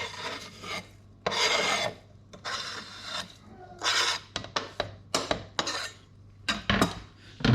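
Chopped chives being mixed by hand through dry breadcrumbs for a cod coating, giving close, raspy rustling and crunching in uneven bursts with short pauses between handfuls.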